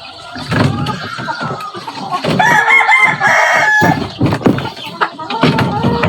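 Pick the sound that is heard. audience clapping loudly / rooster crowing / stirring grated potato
rooster crowing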